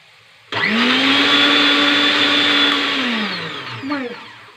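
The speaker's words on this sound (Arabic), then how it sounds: "المهم غادي نخلط باش ما تسمعوش هذا الصوت ونرجع معكم" Kitchen blender mixing a chicken shawarma sauce of mayonnaise, salt, oil and spices, starting abruptly with a loud steady whine, then winding down and pulsing briefly near the end.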